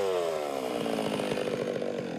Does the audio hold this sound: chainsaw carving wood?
yes